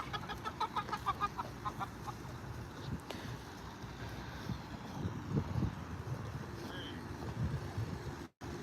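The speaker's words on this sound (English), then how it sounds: "We do have our meat chickens." Meat chickens cluck and call nearby on a homestead in a busy, uneven chatter, with a rooster-like call early on and background rustling and low rumble throughout.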